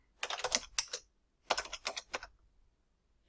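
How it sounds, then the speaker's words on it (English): Two quick bursts of keyboard typing, clattering keystrokes in rapid clusters separated by a short pause, close and clear with no talking. "Just finish typing this"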